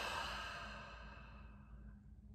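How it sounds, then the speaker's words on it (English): A slow, audible exhale during a guided deep-breathing meditation, soft and close, fading gradually over about two seconds into quiet. "breathing out,"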